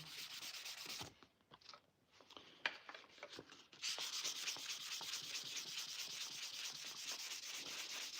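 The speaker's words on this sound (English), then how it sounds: "Just want to kind of give it a quick little sanding." Hand sanding on a wooden knife handle: steady, rhythmic rasping strokes, close and fairly quiet, with a brief pause before the scraping resumes at an even pace.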